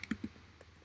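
A few clicky keystrokes on a computer keyboard while typing text into a WordPress page, two or three close taps early on, then faint scattered clicks.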